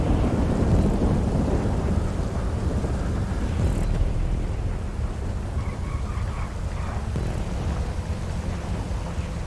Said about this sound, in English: Thunder has always been very loud in this game.